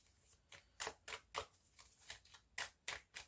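A tarot card is laid down over the ace of coins, giving a series of soft, close papery slaps and slides that come in irregular bursts, quiet and alone.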